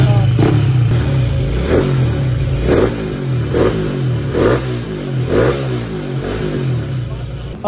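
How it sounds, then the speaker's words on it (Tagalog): A Yamaha Aerox scooter engine revs in repeated short bursts, roughly one each second, close up over a constant idle drone. "All goods yung makina, tahimik na."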